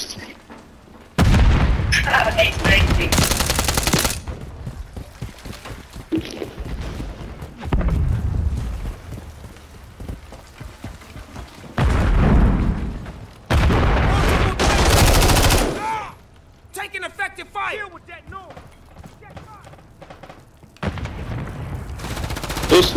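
Gunfire from an online shooter video game bursts in loud repeated volleys and booming shots, with quieter stretches of distant shots between the heavy bursts.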